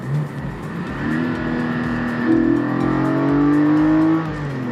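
A 2020 Porsche 718 Spyder with a manual gearbox accelerates hard after a downshift, its engine note climbing steadily in a loud, continuous rising howl heard close up for several seconds, with no talking over it.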